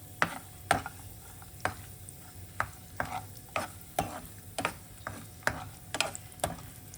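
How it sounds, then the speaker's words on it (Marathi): Cashews, almonds and raisins roast in ghee for sabudana kheer, with a spoon scraping the pan in regular, fairly quiet strokes over a soft sizzle, and no talking. "छान खरपूस होईपर्यंत आपण काजू बदाम आणि किसमिस परतून घेणार आहोत."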